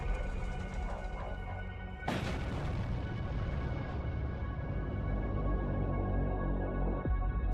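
In the space combat game Void War, a sudden heavy blast erupts after a steady low engine rumble, its broadband roar decaying slowly over several seconds with a second thump near the end.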